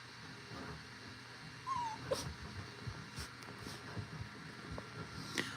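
A small dog tucked under a couch gives a few faint, high whimpers and soft yips, scattered over a quiet room with low background hum.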